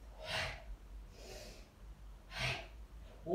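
Forceful breaths pushed out through the mouth during a short yoga breathing practice, three strong breathy bursts spaced about a second apart, close and fairly loud with quiet pauses between.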